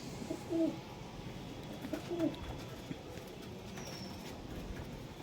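Chinese Teddy pigeons in a breeding loft coo in two low, close calls, soft ambient noise around them and no talk.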